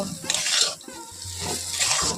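A spoon scrapes and stirs thick semolina and potato dough in a wok in several rough, uneven strokes, close and fairly loud, with a low hum underneath and no talking.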